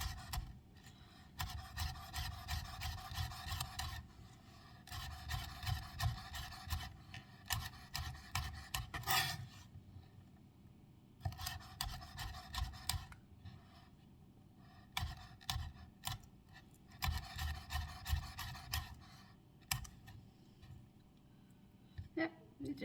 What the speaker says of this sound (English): See if I can cut them into little pieces here.